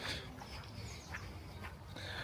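Ducks quack at Sycamore Fisheries in Goldborne, Wigan. Several short, faint quacks come at a distance over quiet outdoor background noise.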